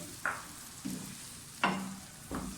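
Tomato puree hits hot oil with frying garlic and ginger for masala bhindi, giving four sharp sizzling bursts as it is stirred, each fading into a steady crackle, close and loud, with no talking.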